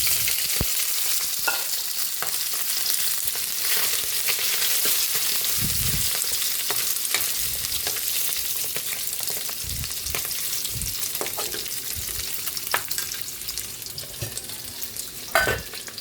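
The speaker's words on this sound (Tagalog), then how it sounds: "Magigisa na po tayo sa ating ginisang gulay." Mixed vegetables sauté in a hot pan with a continuous close-up sizzle and scattered utensil knocks and scrapes from stirring, some louder clanks near the end.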